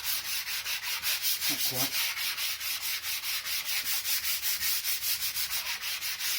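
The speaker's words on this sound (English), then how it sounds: "So I might use the quid's worth of sandpaper. Sand in this box." Sandpaper rubs a cardboard game box in quick, even back-and-forth strokes, a close rhythmic rasp that repeats steadily throughout, with a brief spoken remark partway through.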